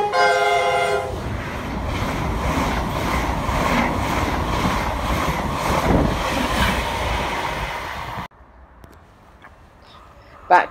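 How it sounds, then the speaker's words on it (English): A train horn sounds, then a London Liverpool Street passenger train roars through a station at speed without stopping, rattling wheels for several seconds before cutting to near quiet. "passing straight through is the first of the day, the 8 o'clock London Liverpool Street train"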